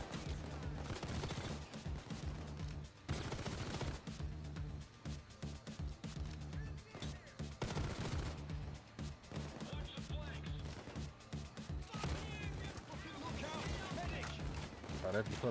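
Turret gunfire in Payday 2, rapid bursts of shots crackling almost nonstop at moderate loudness while people talk over the racket.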